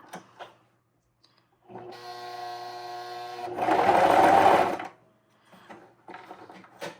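A sewing machine stitches scraps of fabric together for junk journal embellishments, a steady humming run of about two seconds that swells louder, then stops, with brief soft handling sounds before and after.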